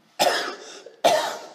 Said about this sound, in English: Apologize about this cough.